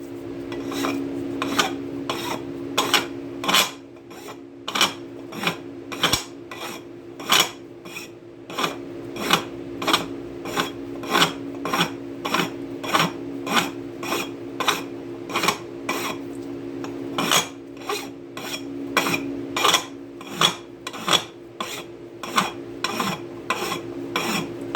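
A hand file rasps back and forth on a metal engine shaft for a John Deere 400, with dozens of rhythmic scraping strokes at a steady pace, loud and close, with a brief pause midway.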